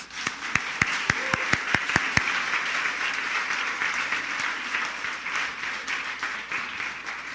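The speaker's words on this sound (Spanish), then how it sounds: "Así que vamos a darles también un aplauso a ellas." Congregation applauding in a church, sharp close claps opening a sustained, even roar of applause from a large crowd that carries on steadily throughout.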